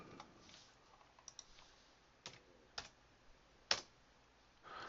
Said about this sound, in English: I'm just going to type in the letters TK, enter.